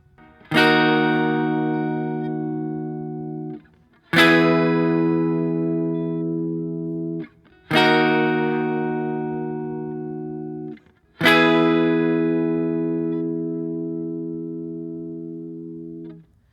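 Four sustained guitar chords, each struck once and left to ring for about three seconds before the next, bright and clear with a slight electric tone.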